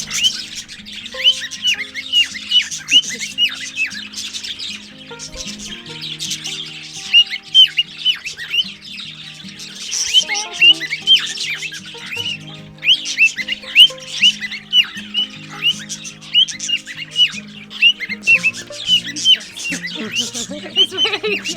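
A pet bird at a tortoise and bird rescue in Tenerife squawks loudly and repeatedly in shrill bursts, with chirps scattered between, close by over soft background music.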